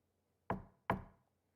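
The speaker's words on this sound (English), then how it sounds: "Someone is knocking at the door." Two firm knocks on a door in the video game Digimon Story: Time Stranger, evenly spaced and isolated against silence.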